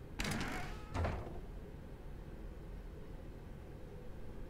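A door in the video game The Stanley Parable, two quick close bursts, a sharp first hit and a second shorter one, followed by a low steady room hum with no voices.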